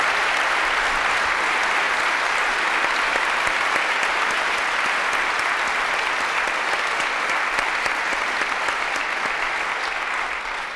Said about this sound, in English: Let's give both of these guys a round of applause.